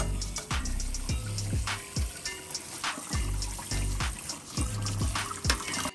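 Water runs and splashes over cooked noodles in a colander in a kitchen sink, a steady close gush with shifting trickles and a few thumps, no voices.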